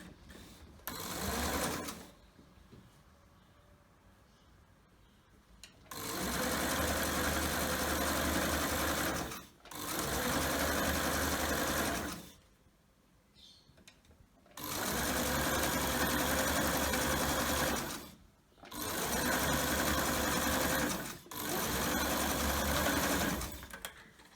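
A sewing machine stitching patchwork cushion strips runs in four long bursts of rapid, steady mechanical whirring, separated by short quiet pauses, close and loud with no talking.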